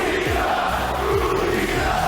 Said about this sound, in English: I don't know who's booing.